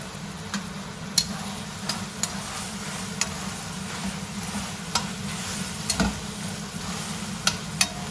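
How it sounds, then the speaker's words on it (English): Butter melts and sizzles in a pan with haricots verts under a quiet, steady hiss. Scattered sharp ticks and pops occur every second or so, and a low hum sits under it. No voices are present. "I'm gonna just melt my butter in there."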